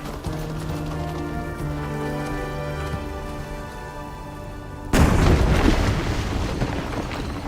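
A bridge collapses in the video game Greedfall: a sudden loud, crashing rumble bursts in midway and keeps roaring after a steady stretch of tonal music over rain-like ambience.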